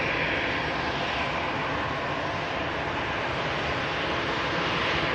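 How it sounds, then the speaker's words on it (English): An Airbus A319 airliner arriving from Lisbon at Manchester Airport, a steady loud roar of jet engines holding without a break, with no talk. "Portugal coming in from Lisbon as well in Airbus A319."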